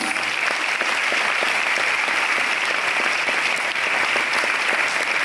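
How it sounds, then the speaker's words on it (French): An audience at the Un Certain Regard opening ceremony of the 2022 Cannes film festival applauds steadily. Many hands clap in a thick, unbroken roar that stays level throughout, with no speech on top. "Nicolas Sédou, on les applaudit tous."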